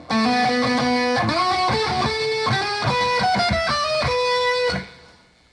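Electric guitar riff, a run of clean, sustained single notes and slides with a light distorted edge, played alone and close, ringing out before a quick stop near the end.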